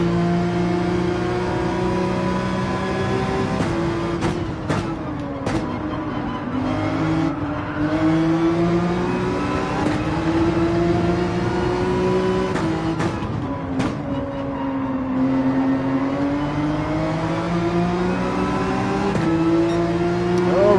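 A mid-engine race car in Gran Turismo 7 revs and drones steadily, its engine note rising and falling through gear changes with brief dips, loud and continuous with no talk over it.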